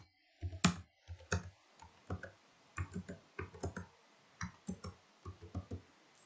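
Keys on a computer keyboard clatter in short irregular bursts of clicks, close and fairly quiet, as digits are entered one by one, with no voices.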